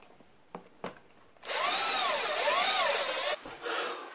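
A power driver screws aggressive-thread cleat studs into the rubber sole of a Simms Headwaters Pro wading boot: a few light taps, then a loud whirring drive of about two seconds with rising and falling pitch, stopping abruptly, then a brief quieter buzz.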